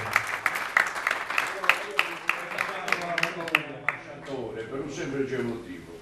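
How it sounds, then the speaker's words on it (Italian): Audience applause at a carnival press conference in Tempio, a dense burst of clapping that is loudest early on and thins out toward the end, with voices speaking over it. "un applauso proprio"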